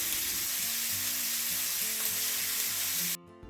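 A ribeye steak sizzles loudly and steadily in a hot pan just after being flipped, a dense continuous frying hiss that cuts off abruptly near the end.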